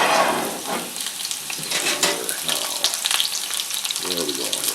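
Potatoes fry in a cast iron pan on a wood-burning cookstove, a steady close sizzle with occasional scraping and clinks of stirring throughout.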